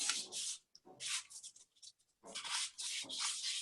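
A raw metal casting rubs back and forth on a sanding stick in short, close, raspy strokes with small pauses between them.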